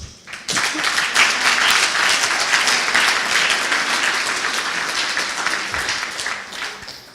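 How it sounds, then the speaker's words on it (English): Conference plenary audience bursting into loud applause after thanks to the organisers, starting abruptly and holding a thick, sustained clatter of many hands that tapers slightly toward the end. "And give applause."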